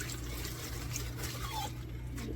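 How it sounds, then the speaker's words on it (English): Hands are rinsed under running tap water, a soft steady splashing trickle close by, with no talking. "Rinse our hands."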